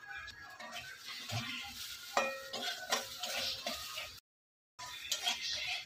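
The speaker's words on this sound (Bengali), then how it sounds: "দিয়ে ভালো করে নেড়ে নেব" Ground cumin, ginger and coriander with salt and turmeric are stirred in a pan, giving a close scraping, faintly sizzling sound with occasional utensil clinks, cut by a brief silence before stirring resumes.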